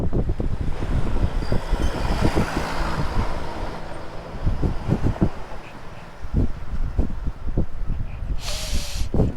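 Steady wind rushing past a rider on a motorcycle during a long endurance ride in Pangasinan, a loud continuous roar buffeting throughout with low thumps, and a brief burst of brighter hiss near the end.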